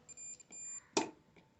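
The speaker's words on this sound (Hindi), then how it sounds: "मैंने इन दोनों पोल के ऊपर मल्टीमीटर लगा दिया है और जैसा कि देख सकते हैं आपको बीप मिल रही है।" A multimeter in continuity mode beeps as its probes touch two poles of a refrigerator defrost timer: a steady high electronic tone sounds in short bursts, then cuts off, followed by a brief handling clatter.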